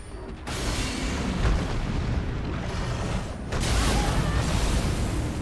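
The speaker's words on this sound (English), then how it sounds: "An exploding bear." An exploding bear in Elden Ring goes off in a loud, sustained rumbling blast that swells again midway, dense and close with no voices.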